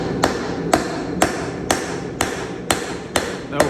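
A hammer strikes a hot rivet while forging a pair of T-tongs, about eight sharp metallic blows at a steady, regular rhythm, close and loud with no talking.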